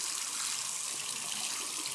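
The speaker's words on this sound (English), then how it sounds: "I'm going to let my water out." Water drains and trickles from a sink after wool cloth diaper covers are washed, a steady close rushing hiss with no pauses or voices.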